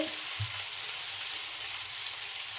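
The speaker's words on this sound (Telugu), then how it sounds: "ఇవన్నీ వేసి అయితే ఫిఫ్టీ పర్సెంట్ అయితే ఫ్రై చేసుకుంటే సరిపోతుంది" Beans and carrots frying in a pan for vegetable fried rice, a steady broadband sizzle that fills the whole stretch evenly, with a brief low stir or clunk near the start.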